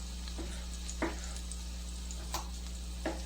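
Tomatoes cooking in oil in a pan give a quiet, steady sizzle, with a few soft clicks and pops scattered through it and no talking.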